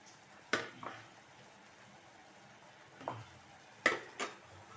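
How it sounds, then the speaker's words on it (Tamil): Gram flour batter with a pinch of salt being stirred in a pot, heard as a few sharp spoon scrapes and knocks spread out over several seconds against a quiet kitchen background. "இப்போ இதில் நம்ம அரைச்சி வச்ச இந்த கடலை மாவு உப்பு ஒரு சிட்டிக்கை சேர்த்து இதில் போட்டு நல்லா கிளறி விட்டுக்கலாம்"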